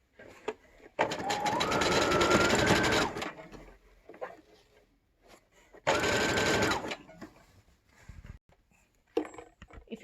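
A sewing machine stitches folded tape onto a PPE surgical gown in two loud, sustained bursts of rapid whirring, separated by quiet handling clicks, close to the microphone.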